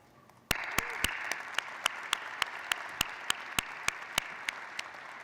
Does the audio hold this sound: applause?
yes